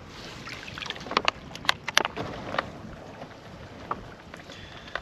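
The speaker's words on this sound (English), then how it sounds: "it's just the right temperature now to come out and have a bit of a paddle" A canoe paddled on Loch Ken in Scotland at dusk, with close, irregular splashes and drips from the paddle strokes against a soft background of open water and light air. No one speaks.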